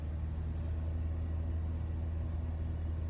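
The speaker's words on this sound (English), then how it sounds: "My car is making a lot of noise," Car engine revving under acceleration from inside the vehicle, a loud, steady low rumble with strong bass hum holding throughout, no voices.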